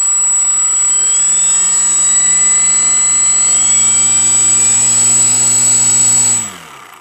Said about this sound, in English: let's see how the engine sounds here